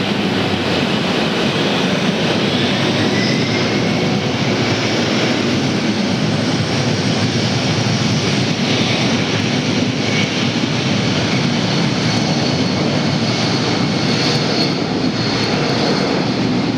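An Airbus airliner lands at Atlanta airport, producing a loud, steady jet engine roar with broadband rushing noise that holds at a constant level throughout.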